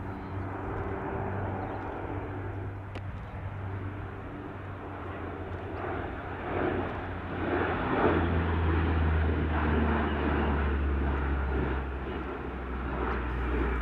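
A P-3 Orion four-engine turboprop maritime patrol aircraft flies past at an airshow, a steady droning engine roar that builds and thickens toward the end, heard at a distance with a low rumble underneath.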